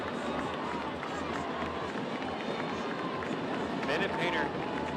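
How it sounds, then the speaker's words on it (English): Fans stomp on stadium bleachers at a men's college soccer match, a continuous dense rumble and thumping beneath crowd noise, with a commentator talking over it. "And the bleachers are rumbling."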